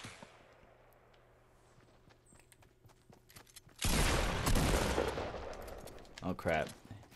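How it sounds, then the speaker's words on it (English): Shotgun fire in Fortnite Battle Royale arrives after a quiet stretch of faint ticking and footsteps: a sudden loud burst of gunfire breaks out, followed by more sharp, close blasts. "Right when he comes, we're gonna shotgun him."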